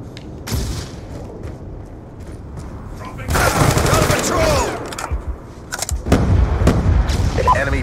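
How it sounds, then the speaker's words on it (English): Death Machine minigun in Black Ops 2 Zombies fires bursts of rapid gunfire, with loud sustained bursts in the middle and near the end. An announcer-style game voice speaks over the shooting. "Hostile death machine spinning up"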